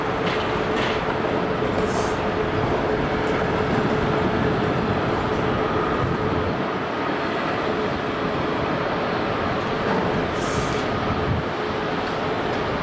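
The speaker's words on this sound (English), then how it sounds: "Manchester Airport train station." A train rumbles steadily at Manchester Airport train station, a continuous moderate rolling drone with a few faint higher hisses and squeals over it.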